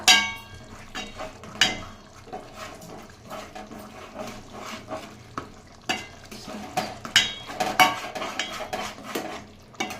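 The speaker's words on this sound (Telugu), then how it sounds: "మంచిగా మిక్స్ చేసుకోవాలి గైస్." Biryani rice is mixed in a pot with repeated scraping and clinking strokes of a utensil against the metal, an irregular stirring rhythm with soft sizzling underneath.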